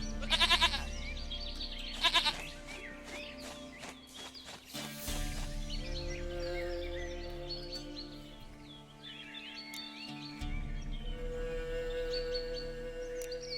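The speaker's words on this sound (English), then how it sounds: "Goat of mine, dearest, sweetest goat." A goat bleats in The Witcher 3: Wild Hunt, its calls rising over a steady game soundscape with ambient music drones and scattered bird-like chirps, fairly close but not loud.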